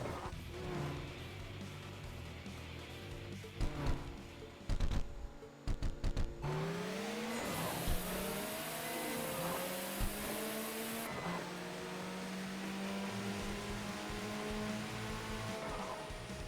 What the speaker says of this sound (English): Just cruising around in a wide body Supra from Bomex.